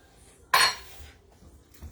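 Metal utensil clinking against a pan while stirring Thai coconut curry shrimp with a little curry paste: one sharp loud scrape-clink near the start, then faint quiet scraping.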